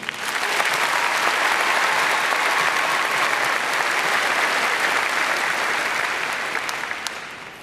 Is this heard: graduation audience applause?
yes